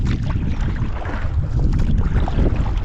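Strong wind gusting across an open lake while someone rows a small boat in early spring, a steady loud rumbling buffet with blustery texture throughout and no talk.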